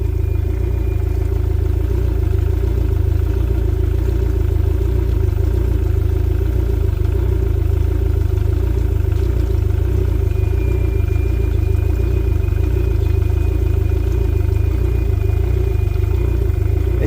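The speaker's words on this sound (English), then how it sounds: "it's surging a little bit. Surging. That's telling me it's starving for fuel." A boat's outboard engine runs steadily up close, loud and droning, with slight rises and dips in its pitch as it surges unevenly, starving for fuel.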